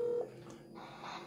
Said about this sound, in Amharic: ስልክ ገባ እንዴ